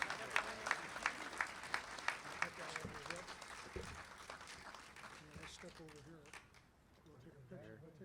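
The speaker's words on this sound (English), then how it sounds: "Let's have a nice round of applause for Tom, junior and senior." A crowd applauds at an athletic hall of fame induction ceremony, steady clapping that gradually thins out and fades toward the end.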